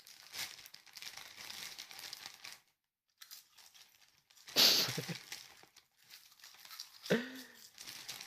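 A plastic bag crinkles in short rustling bursts as someone snatches it up quickly, with a sharp, louder grab near the middle, heard close with no talking.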